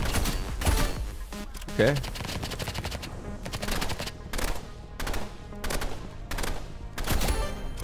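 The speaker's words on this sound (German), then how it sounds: "Ich finde dieses Schießen, finde ich nicht gut." Gunfire from the shooter game Roblox Rivals, dense bursts of rapid shots repeating throughout with game effects, under a voice that speaks briefly.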